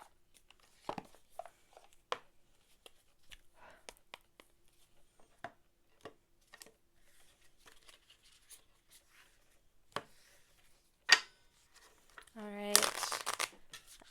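Tarot cards being shuffled by hand make quiet, scattered papery flicks and taps, followed by a louder burst of riffling near the end as a voice starts talking over it.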